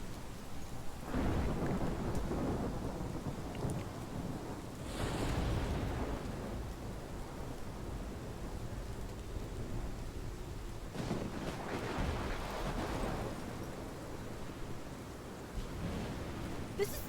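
Thunderstorm in the game Life is Strange, heavy rain with repeated deep rolling thunderclaps swelling and fading over a steady downpour, loud and enveloping.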